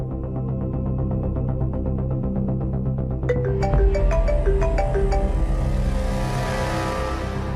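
A phone rings repeatedly with a steady electronic tone over a low hum, then a brighter tone pattern takes over near the end. No one speaks over it.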